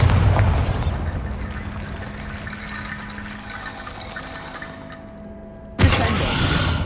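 A Bombarda spell explosion in Hogwarts Legacy hits with a loud opening boom that fades into a long rumbling, watery decay, then a second sharp blast bursts in near the end.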